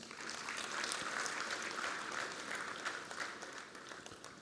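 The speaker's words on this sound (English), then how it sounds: "Let's give him a round of applause." Audience at an address by a professional association's guest of honour claps in a soft, distant, even patter of applause that holds steady for a few seconds.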